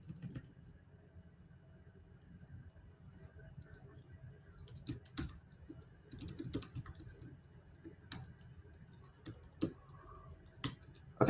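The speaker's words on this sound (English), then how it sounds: "it's a lot of just typing on the screen" Someone types on a computer keyboard while scripting in IDA Pro: sparse keystrokes at first, then denser bursts of clicking taps in a quiet room.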